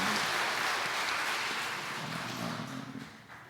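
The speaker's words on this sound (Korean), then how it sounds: "우리 하나님께 영광의 박수 한번 주시고요." A congregation at a Sunday church service claps together in a full, steady wave that tapers off toward the end, heard at a moderate distance.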